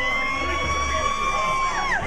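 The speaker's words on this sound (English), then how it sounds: "Y'all scream for the camera." A group of people scream, whoop and cheer together at a lively gathering, a loud, continuous crowd roar that stays close and sustained throughout.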